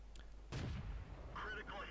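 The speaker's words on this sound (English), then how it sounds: "I see a T150 and I just start shooting away at him" A single tank gun shot in World of Tanks, a sharp close boom followed by a short rumbling tail, with a faint voice talking afterward.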